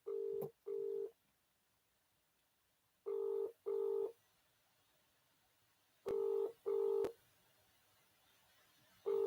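Telephone keypad tones beep in pairs, three pairs with pauses between, clear and close against near silence.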